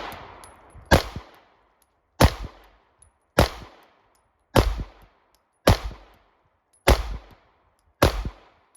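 Seven sharp rifle shots from a Primary Arms SLX RS-10 at an outdoor shooting range, evenly spaced about one per second, loud and close, each with a short echoing tail.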